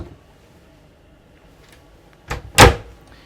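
A wardrobe door on the other side of a Pershing 8X carbon-fibre yacht cabin swinging open, two quick close clicks after a quiet pause, heard alone.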